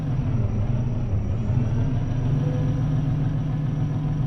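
A Mack R two-stroke truck engine in American Truck Simulator pulls a heavy 81,000-pound load from a start in fourth gear, a loud, steady low rumble with a throbbing drone throughout.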